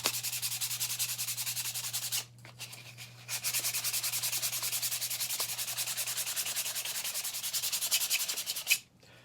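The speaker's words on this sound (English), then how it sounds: "Isn't it fun watching someone sand?" Steady back-and-forth sanding across the painted surface of a Trendmasters Extreme Proton Pack toy, a close, continuous gritty rubbing with two short pauses, alone without speech.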